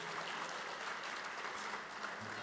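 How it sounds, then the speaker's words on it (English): Many hands clap in a continuous, even wash of applause at a Henry County Schools Teacher of the Year ceremony, heard fairly faint and from a distance with no talking over it. "a big round of applause for Jamie"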